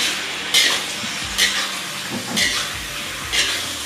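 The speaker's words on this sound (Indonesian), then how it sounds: "Kita aduk." Barbecue chicken stir-fry being stirred in a pan, four distinct scraping strokes roughly a second apart over a soft continuous sizzle, close and fairly loud.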